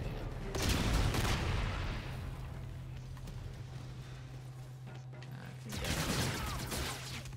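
Gunfire in the online shooter Call of Duty Infinite Warfare on the Frontline map at Skydock, with bursts of shots at the start and again near the end, a steady game hum running underneath throughout.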